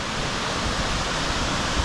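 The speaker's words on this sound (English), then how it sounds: "Didn't know there was another waterfall." A waterfall on a coastal hike roars in a steady, dense rush of white water, loud and close, with no other sounds standing out.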